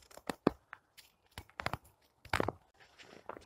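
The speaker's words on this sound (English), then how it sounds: "Can you hear the snow crunch?" Handful of snow crunches and crackles as it is squeezed, a series of short, faint, irregular crisp bursts close by with quiet pauses between.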